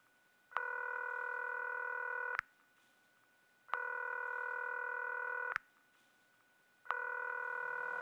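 A telephone ringback tone in the video game Concluse sounds three times, each steady electronic burst lasting about two seconds, separated by short silences.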